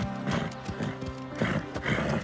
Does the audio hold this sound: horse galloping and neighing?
yes